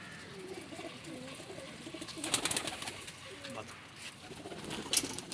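Pigeons kept in a loft, including netted hens, give soft, low throaty coos at moderate distance, with occasional wing flutters and light rustling throughout.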